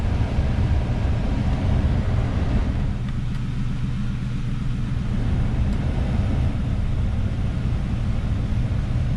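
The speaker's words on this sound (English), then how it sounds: "we have a functioning blower motor again" Climate control blower motor running in a Crown Victoria, a steady loud broadband whoosh of fan air with a low rumble underneath, continuous and even throughout with no talking.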